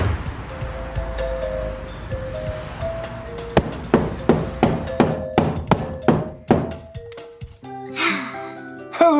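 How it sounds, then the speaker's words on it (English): Hammering on a wall to hang a calendar, a series of sharp, loud knocks in a steady rhythm after some quieter background sound, ending in a brief noisy scrape. "Who is hammering?"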